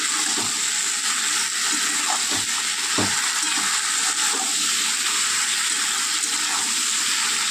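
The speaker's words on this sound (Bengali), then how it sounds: "এবার এটা খুব ভালো করে আমি ভেজে নেব।" Steady sizzling and crackling of vegetables frying in a pan, with occasional soft scraping clinks, continuous throughout.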